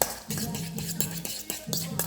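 A utensil stirs food in a bowl with a steady rhythm of scraping clinks, about eight strokes in two seconds, close and moderately quiet with no talking.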